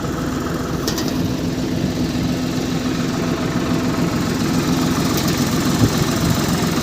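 A tractor engine runs continuously at close range in a peanut field, a steady, rumbling low idling drone with faint rattles and no voices.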